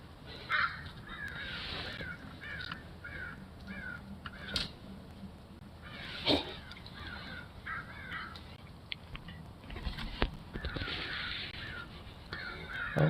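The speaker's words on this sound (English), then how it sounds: "Oh, there's a crow right there." A crow cawing repeatedly outdoors in short harsh bursts spaced over several seconds, moderately near, with occasional clicks and bumps among quiet background noise.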